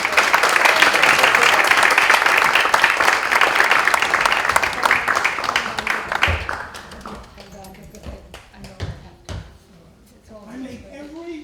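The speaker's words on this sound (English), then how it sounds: "Let's give a round of applause." Applause fills a memorial gathering at a theater temple, dense and steady for about six seconds before tapering into scattered claps and voices talking.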